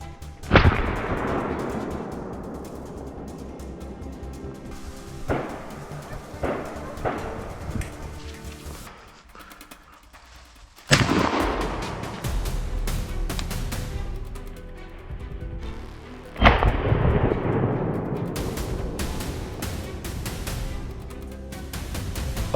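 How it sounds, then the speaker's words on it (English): Gunfire bursts during a wild boar hunt, three sharp loud reports spaced several seconds apart, each trailing off into a long echoing decay, with no talk. "A burst of gunfire followed swiftly, but this time all the bullets missed."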